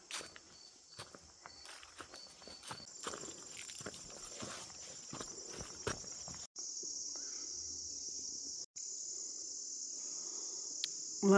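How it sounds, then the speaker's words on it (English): Insects buzzing and crickets chirring around spring flowers along a sunny trail, a steady high drone with soft footsteps crunching early on, fairly close and continuous. "Lots of buzzing for the flowers."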